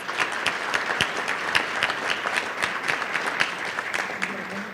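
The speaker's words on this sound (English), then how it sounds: "And a round of applause for Lewis." A crowd claps for a student being recognized at an awards event, dense steady applause with a few sharper individual claps standing out, continuous throughout.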